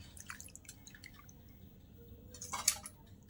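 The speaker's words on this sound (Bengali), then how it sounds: "তো ডালটা আমি দিয়ে দিলাম বাটিতে" Thick pumpkin dal is poured into a bowl, a few quiet wet drips and plops close up, ending in a brief louder splashy slop near the end.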